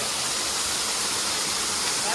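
An untouched waterfall in the forested Konkan hills falls from a height, a steady, dense roar that fills the scene without a break.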